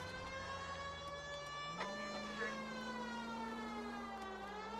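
In L.A. Noire, a police car siren sounds continuously, its steady wail rising slightly in pitch midway and holding there, loud and unbroken with no talk.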